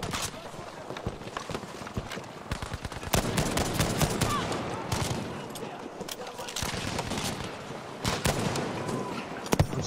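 Dense rifle fire from an M1 Garand in the shooter game Battlefield V, with rapid cracks and bursts of other gunfire packed throughout, loud and continuous, with players talking over it.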